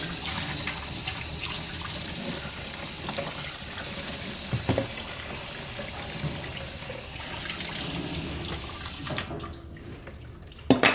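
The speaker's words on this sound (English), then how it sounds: "Rinse it all off with clean water, especially in the tubing." Tap water running through ventilator vent tubing as it is rinsed clean, a steady splashing trickle across most of the clip with a few brief knocks, then a sudden cut near the end.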